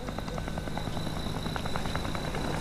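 A helicopter flying overhead, a loud continuous rotor thrum with a steady buzzing chop, alone without voices.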